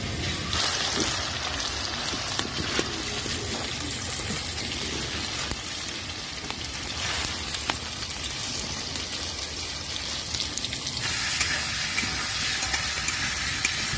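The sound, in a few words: potatoes frying in a pan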